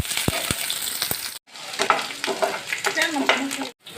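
Chopped onions fry in hot oil and are stirred with a utensil, giving a crackling sizzle broken by sharp scraping taps and a couple of brief pauses.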